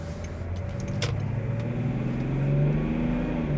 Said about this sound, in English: Though that engine is quite loud.